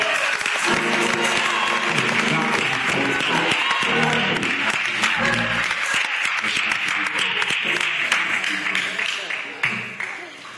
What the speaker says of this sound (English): Clap your hands and give God praise, everybody.